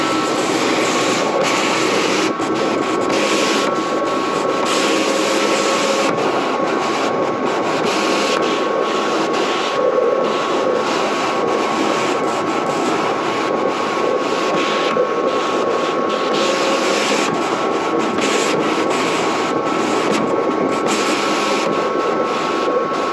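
Vinyl cutter machine slicing a stencil design into vinyl in a studio, a continuous loud mechanical whir with steady motor hum and rhythmic carriage movement throughout.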